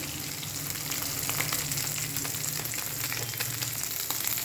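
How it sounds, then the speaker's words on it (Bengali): Green chillies hit hot oil as a tempering while fish curry is being cooked, giving a dense, continuous crackling sizzle that stays fairly loud and even, with scattered sharp pops. "কাঁচা লঙ্কা ফোড়ন দিলাম।"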